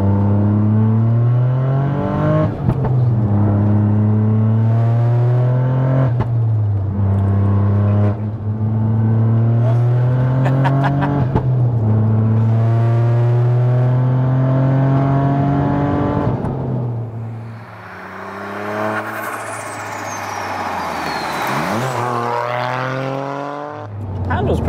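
A widebody, fully forged big-turbo 530 bhp Toyota GR Yaris drives on a road, its engine droning and rising through repeated gear changes from inside the cabin, with people talking over it.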